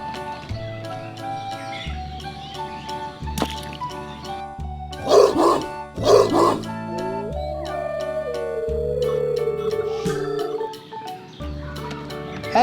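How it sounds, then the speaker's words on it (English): A wolf howls in a long, wavering, falling tone over a steady bed of children's background music, following a couple of short, loud bark-like yelps. "Wolf."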